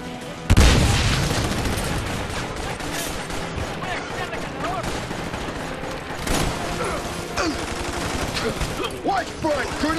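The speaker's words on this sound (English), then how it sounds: "Grenade out!" A grenade explodes with a sharp loud boom early on in the video game Army of Two: The Devil's Cartel, followed by sustained bursts of gunfire and scattered impacts, with voices shouting underneath.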